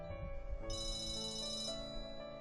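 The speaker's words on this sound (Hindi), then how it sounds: "ओ पीहू का फोन। फटाफट से पराग ने फोन उठाया।" A phone rings with an incoming call, a clear electronic ringtone melody playing on its own, moderately close, with a brighter layered burst in the middle.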